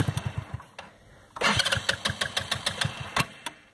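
A 150cc carbide go-kart engine sputters through a few chugging pulses, pauses, then catches and runs with rapid, loud mid-pitched firing close by, with no talking.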